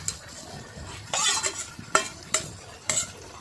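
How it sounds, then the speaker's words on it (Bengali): Fried crabs and fried potatoes being stirred in a pan, with spatula scrapes and soft sizzling in several distinct bursts and no talk. "এবার ভালো করে নাড়াচাড়া করে নেব"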